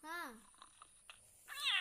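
A cat meows twice, a rising-falling cry at the start and another near the end, fairly close but soft, with faint sounds between.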